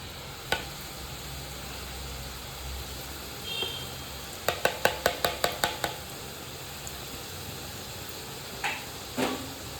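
Besan boondi batter dropped into hot oil and frying in a steady hiss, broken by a quick run of sharp metallic taps from a ladle and a few scattered clinks.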